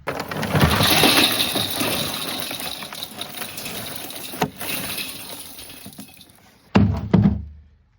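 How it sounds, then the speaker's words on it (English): Leftover lump charcoal from the bottom of a bag poured into a grill: a long rushing clatter of pieces that thins out, then a couple of loud thunks and a final tumble before stopping. "now we're ready to dump in some charcoal"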